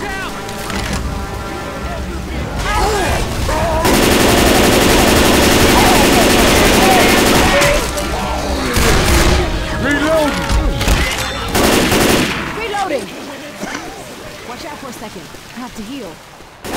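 Rapid bursts of automatic gunfire and shotgun blasts from survivors fighting in Left 4 Dead 2, loud and dense, running almost continuously with brief pauses, mixed with game voices and chaotic action.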